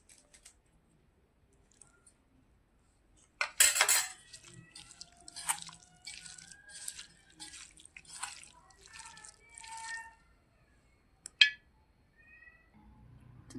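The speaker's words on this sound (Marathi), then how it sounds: "चांगलं मिक्स करून घेऊया." Marinated chicken with chutney and oil being mixed by hand in a bowl: soft, wet squelching and sticky slapping sounds in an irregular rhythm, close and fairly quiet, with a sharper clatter near the start and one near the end.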